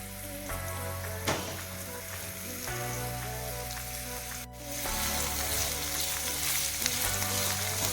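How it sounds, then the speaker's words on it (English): Chopped onions sautéing with golden-brown urad dal and fennel seeds in a pan, a steady close sizzle and crackle with occasional stirring scrapes. "Let's saute it."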